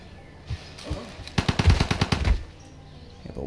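Gunfire from a unit attack in the strategy game Civilization 5, a loud rapid burst of about a dozen shots lasting roughly a second, preceded by a couple of softer thuds.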